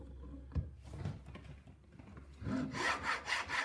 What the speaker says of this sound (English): I'm going to start by filing it a bit smoother.